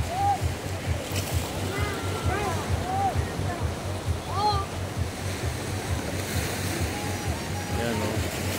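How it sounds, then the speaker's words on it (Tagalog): Surf rolls onto a beach at Urbistondo, San Juan, La Union, a steady wash of breaking waves with low rumbling pulses, wind noise, and people talking intermittently over it. "Medyo maganda yung alon ngayon."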